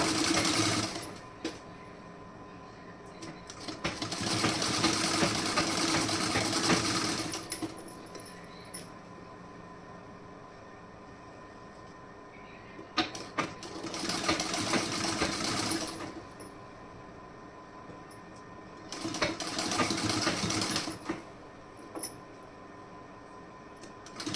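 A sewing machine stitches folded piping fabric in three separate bursts of steady, fast whirring, each lasting a few seconds, with quieter handling pauses between them.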